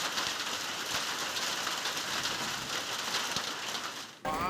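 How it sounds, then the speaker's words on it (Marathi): Heavy monsoon rain in Maharashtra pours steadily as a dense, even hiss with scattered sharper drops, loud and close, with a brief dip and abrupt cut near the end; no talking. "जालना, संभाजीनगर, जळगाव, मनमाडमध्ये आपण बघतोय कशा पद्धतीनं पाऊस झालेला आहे"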